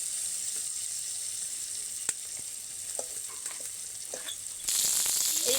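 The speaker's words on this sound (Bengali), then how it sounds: "এই দেখুন খুন্তি দিয়ে কাটছি" Boneless chicken in a frying pan being cut with a spatula, a few light scraping taps over a soft background sizzle, then a sudden louder hiss near the end, with no voices.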